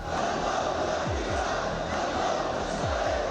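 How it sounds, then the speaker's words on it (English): Crowds in Yemen protesting in the streets in solidarity with Gaza, chanting anti-U.S. and anti-Israel slogans, make a dense, steady roar of many voices that stays loud and continuous throughout. "crowds in Yemen chanted anti-U.S. and anti-Israel slogans as many took to the streets to protest in solidarity with Gaza."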